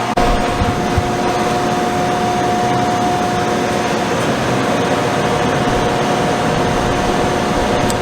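An electric fan runs steadily at close range, a constant broadband whoosh with a faint steady hum, unbroken and without talk for the whole stretch.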